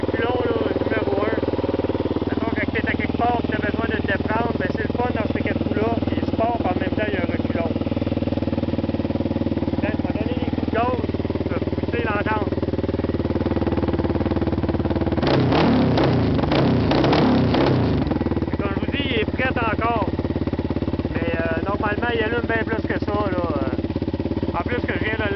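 A Raptor 700R quad ATV engine runs at a steady loud idle throughout, nearby, with a brief rev-like surge midway while someone speaks French over it.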